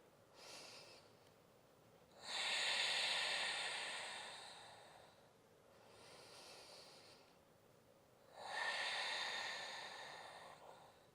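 Deep, slow breaths drawn and released during a forward-fold yoga stretch, with two long airy exhales and a softer one between, close and quiet with no talking.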